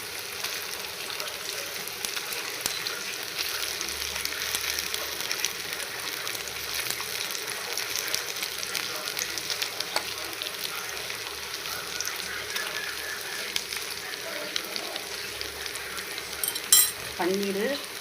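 Paneer fries on a hot tawa with a steady, fairly quiet sizzle and occasional stirring scrapes. No one speaks.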